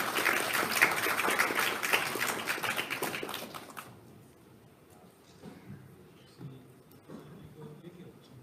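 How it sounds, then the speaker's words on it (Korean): An audience at an occupational therapists' association 50th anniversary vision presentation claps warmly for about four seconds, then the applause stops abruptly and the hall falls to quiet rustling and faint sounds. "박수 받아주시고요"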